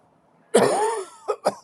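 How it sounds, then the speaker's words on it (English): A single loud, close cough is followed by two short, sharper coughs, with near silence before it. "Sorry about that cough."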